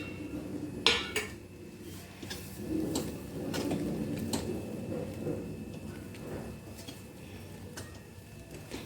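Peanuts stirred into poha in a cooking pan, a spoon clinking and scraping against the metal in irregular taps and short scrapes, close and moderately quiet with no talking.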